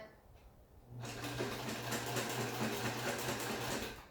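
Sewing machine stitching a folded fabric hem, starting after a quiet second and running at a steady, fast whirring rhythm, close and continuous until the end.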